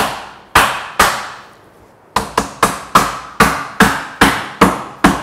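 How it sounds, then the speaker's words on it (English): A wooden table rail joint for a Greene & Greene style rafter tail table is tapped together with a series of sharp, loud knocks. Two single blows come first, then a quick run of about nine evenly spaced strikes, with nothing else underneath. "Tap it together."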